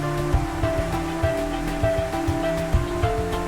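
Water rushes continuously in the Minotaur visual novel, a steady roar layered with sustained tonal music and soft rhythmic thumps, at a moderate, unchanging level with no voices.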